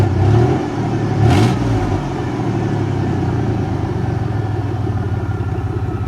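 A 1993 Chevy Cheyenne farm truck engine with an exhaust leak revs briefly, then settles into a steady, rumbling run with a raspy edge, loud and close, with no talking.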